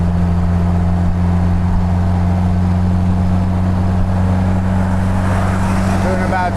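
A 1952 MG TD right-hand-drive roadster cruising at about 60 mph on a highway beside large dump trucks, giving a loud, steady engine drone and road rumble throughout with wind noise rising near the end.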